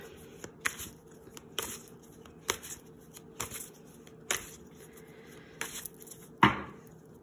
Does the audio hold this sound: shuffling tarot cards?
yes